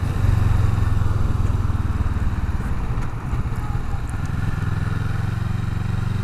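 A Kawasaki Vulcan S motorcycle engine under way, a steady, loud, low droning rumble with a slight dip midway, heard continuously throughout without speech.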